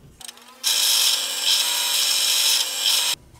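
A power drill with a 2.5 mm bit bores a pivot hole in a wooden bandsaw circle jig. A brief motor whir leads into about two and a half seconds of loud, steady grinding, then stops.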